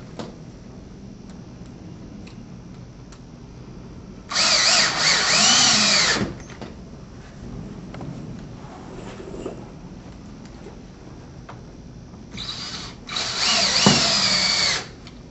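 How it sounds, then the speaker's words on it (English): Power drill driving bugle head screws into a shutter frame during a T-post shutter installation, two loud whirring bursts of a couple of seconds each, close up, separated by quieter handling noise. "we can continue to install the remainder of the bugle head screws"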